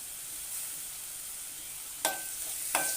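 Onion and tomato sauté in hot oil with a constant soft hiss, then two sharp metallic clinks of a spoon against the pan near the end.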